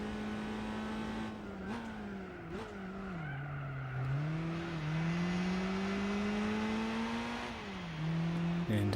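Race cars in a Gran Turismo 4 GTI Cup race, a Volkswagen Mark V Golf GTI among them: a steady loud engine drone rising and falling with gear changes, with a voice talking over it throughout.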